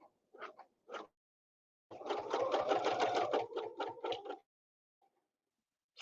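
A quilting sewing machine stitches along a ruler: a few short bursts of needle chatter, a pause, then a longer run of rapid mechanical stitching that breaks into several short stops and starts before falling quiet.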